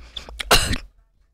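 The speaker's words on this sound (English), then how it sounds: "I had to cough." A person gives one hard, close cough made of a couple of short bursts, then quiet follows.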